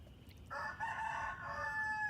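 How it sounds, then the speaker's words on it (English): A rooster crows once, a loud drawn-out cock-a-doodle-doo rising and trailing off, close by with little else around it. "Oh my gosh, we have a rooster."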